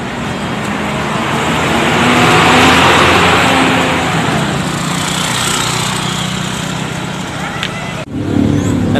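A Haryanto coach bus pulls away from Gubeng bus terminal, its engine droning loud and steady amid roadway traffic noise before a sudden break near the end; a voice speaks over it.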